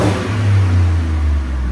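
A 2022 Ford F-150 with a 5.0L Coyote V8 and Borla Pro XS exhaust, resonator kept on, revs in a deep, loud, close rumble that swells and eases slightly, with a smooth mild tone.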